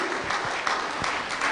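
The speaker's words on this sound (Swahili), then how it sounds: "Makofi tafadhali ya kilo kwa Sheikh wetu tafadhali." Audience applause for a sheikh at a Kenyan Muslim gathering. Dense, steady clapping runs through the whole stretch, fairly loud and close, with no talk over it.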